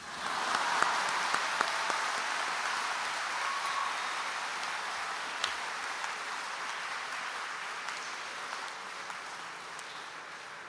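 An audience at a school convocation breaks into sustained clapping, a broad, even wash of applause from a large crowd that continues for about ten seconds, fading slightly toward the end.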